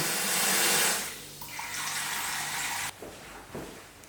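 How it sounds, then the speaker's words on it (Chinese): Tap water runs hard into a sink over chicken feet being rinsed of oil, a loud close hiss that eases briefly, then resumes with splashing and shifting flow. "让它小火冲起，让它小水冲起哈，把油全部给它冲干净"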